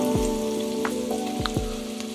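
Onions and garlic frying in oil in a pan, a continuous crackling sizzle with scattered pops and a low steady hum underneath, close and moderately loud.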